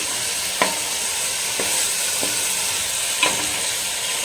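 Chicken roasting hotel-style in a pan sizzles with a steady close frying hiss, broken by a few soft scrapes of stirring, with no voices.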